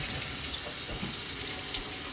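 Water running steadily from a kitchen sink tap, wetting bread for Italian meatballs; a constant close splashing hiss with no talk.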